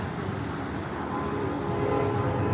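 A train rumbles past on nearby tracks in a Chicago neighborhood, a steady broadband roar that swells slightly louder toward the end, with no voices over it.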